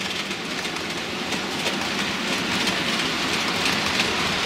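A Hornby model water treatment train with a generator wagon in the middle runs along a model railway layout, giving a steady, continuous rolling rumble with light rhythmic clatter of wheels on track, close and alone.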